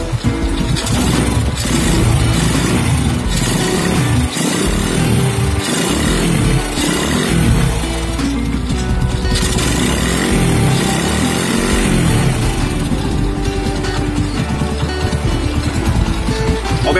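A motorcycle engine bored up with a Vario 125 piston, running with an exhaust fitted, putters loud and close, idling with uneven bursts and revs throughout.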